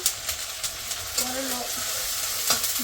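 Ginger and garlic paste fries in a pan with a steady sizzle and periodic stirring scrapes, heard up close, while a faint voice murmurs briefly in the background.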